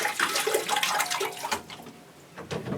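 Water poured onto a potted orchid in bark: a steady splashing, gurgling flow that thins out toward the end, close and fairly loud.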